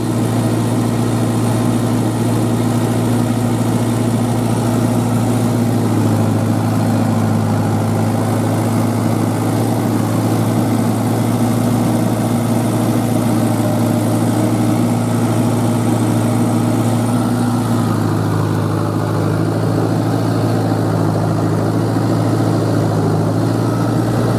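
A tractor engine runs steadily and loudly throughout, a continuous low droning rumble with no pauses.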